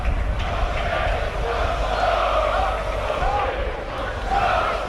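Football supporters in a stadium's south stand during York City v Woking, a National League match, roaring and singing as a steady, dense crowd noise that runs throughout under a radio commentator's voice.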